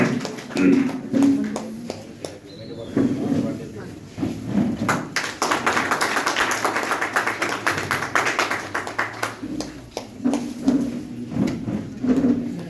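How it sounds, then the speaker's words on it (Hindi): Applause breaks out at a farewell ceremony honoring election officer Abhishek Ranjan in Triveniganj, Supaul, with a burst of many hands clapping in the middle and someone speaking before and after it. "सर ताली में कंजूसी नहीं, देखिए ताली का बहुत फायदा है"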